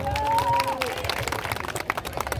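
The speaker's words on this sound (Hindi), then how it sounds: "तो अपने लिए एक बार जोरदार तालियां बजाओ।" Crowd clapping at a Chhath Puja cultural program in Hari Nagar, Delhi: a brief burst of applause with a faint tonal voice-like line at the start, tapering quickly.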